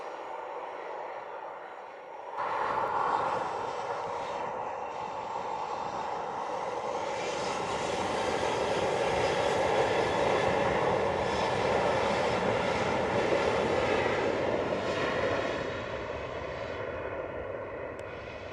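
An American Airlines jet takes off at Montego Bay, its engine roar rising from quiet into a loud, broad, sustained rumble that swells toward the middle and then eases slightly while staying strong.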